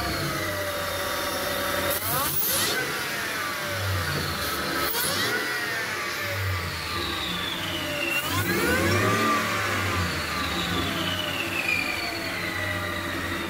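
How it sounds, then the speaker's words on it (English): A 750-horsepower V8 pickup truck engine runs close by, humming steadily with several smooth rises and falls in revs throughout. "the V8 pickup truck now is running smoothly and beautifully"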